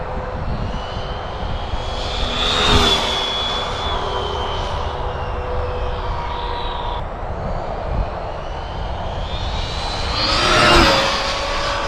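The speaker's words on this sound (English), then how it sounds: "We got a nice plane about to take off there. You can see a JetBlue." JetBlue airliner taking off, a loud sustained jet engine roar with rising whine that swells and fades, heard from outdoors nearby.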